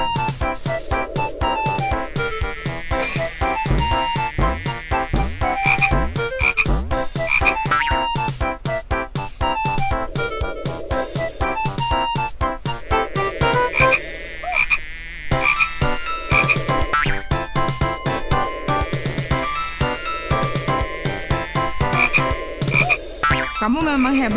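Frogs croak over and over in the Bobby Bola video game, a dense run of cartoonish croaks set against constant busy game music and effects with no talking.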